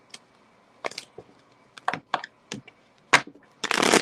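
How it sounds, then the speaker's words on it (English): Tarot card deck being shuffled by hand, a series of short separate riffling snaps and taps spaced irregularly, close and fairly quiet, ending in a longer burst of cards. "One more shuffle."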